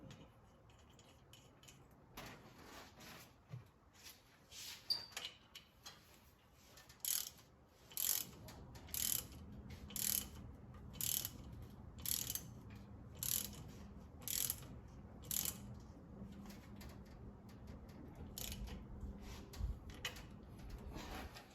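Ratchet clicks in short repeated bursts while bolts are tightened during a supercharger and serpentine kit install on a 1968 Camaro with an LSA engine, fairly close and moderately loud, with no talking.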